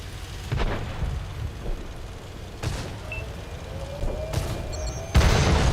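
Tank cannon fire in a Cold War tank video game: several loud booming blasts, one sharp report near the end, spread over rumbling battle noise with a faint whistling streak in between.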